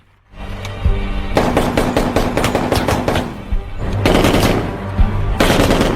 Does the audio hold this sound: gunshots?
yes